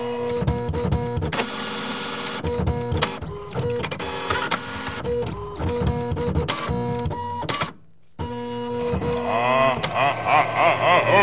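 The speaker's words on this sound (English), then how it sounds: "I'm the new haunted printer." A haunted printer in a comedy series whirs and clatters steadily with rhythmic mechanical clunks, loud and close. It pauses briefly and then resumes, with no talking.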